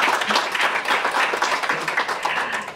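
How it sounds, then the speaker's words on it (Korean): An audience at a textile and fashion industry forum claps for a professor after his talk, a brisk, fairly close patter of hands that stays busy and uneven for a few seconds. "우리 박창규 교수님께 박수 한번 다시 부탁드립니다"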